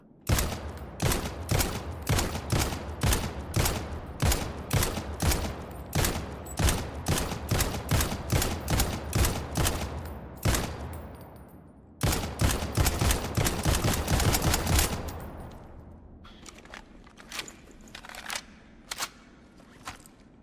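Automatic gunfire from the video game Wardogs: loud, rapid regular bursts of shots, a short pause, another long burst, then scattered single shots trailing off.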